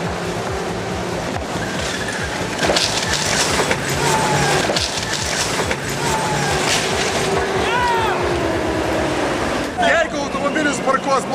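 A tank rolls over an illegally parked luxury car, grinding and crunching metal and glass in repeated loud splintering bursts, with someone talking throughout.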